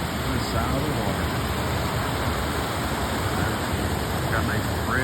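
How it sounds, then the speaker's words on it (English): Water pours steadily over the waterfall at Normandale Lake in Bloomington, Minnesota, a dense, loud, continuous rushing roar with no break from start to finish. "The sound of the water."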